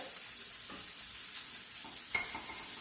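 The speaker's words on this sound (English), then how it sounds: "I'm going to go ahead and then put some of the shredded potatoes in the oil" Shredded potatoes for hash browns fry in hot oil, a close, steady sizzle with light crackles and a few soft stirring scrapes, no talking.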